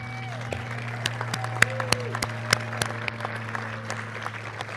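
Audience applause with scattered cheers at a college athletic field grand opening, honoring coaches and student athletes; steady clapping with sharp individual claps over a constant low hum, voices mixed in.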